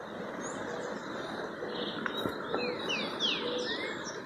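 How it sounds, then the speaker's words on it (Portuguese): Several birds chirp and tweet outdoors after rain, giving short, high, sweeping calls that overlap above a soft, steady background hiss. "Toda hora pássaros."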